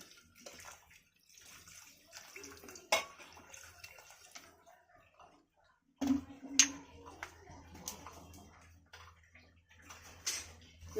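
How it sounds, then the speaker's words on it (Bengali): Water is poured into a cooking pot in a quiet kitchen, with a soft splashing pour, clinks of utensils against the pot, and a low running-water stream in the latter half. "এবার এটাকে আমি পরিমাণ মতো জল দিব।"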